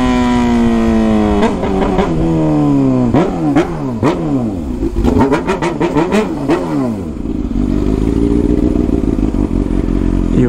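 A Honda Hornet motorcycle with a straight-pipe exhaust revs hard and loud, its engine pitch climbing and dropping in repeated sharp bursts before settling into a steady high drone, close by with no talk.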